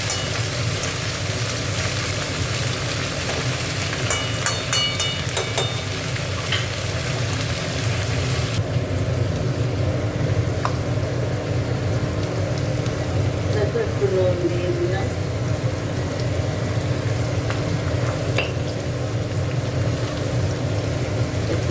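Beans and carrots sizzle steadily in a pan, a continuous even crackle and hiss throughout, with someone speaking over the frying.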